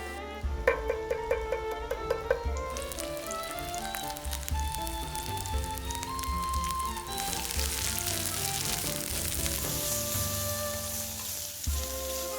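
Mushrooms sizzle and fry in a pan for bruschetta, a steady close crackle with a few light taps and stirring sounds near the start, no voices.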